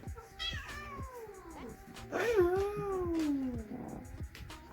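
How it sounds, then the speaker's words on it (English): A cat meows indoors, two drawn-out, wavering cries, the second louder and longer, with faint background movement. "Quit poking the cat."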